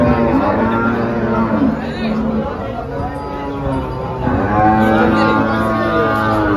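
A large cow lows with long, deep moos at a busy cattle market in Dhule, set against crowd chatter and someone talking nearby.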